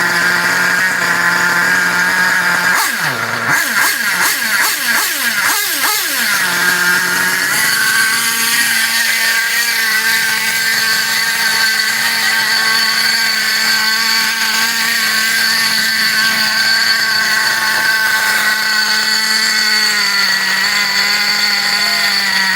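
Nitro engine of an Xray RX8 RC car running loud and close, with a few quick revs blipping early on before it settles into a steady, high-pitched, buzzing idle that drones continuously.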